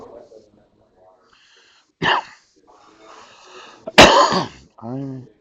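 One person coughs a couple of times, sharp and close, between stretches of speech.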